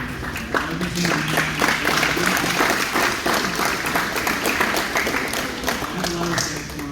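Sustained audience applause at a youth coach's recognition event, dense steady clapping throughout with no pauses, moderately loud and close.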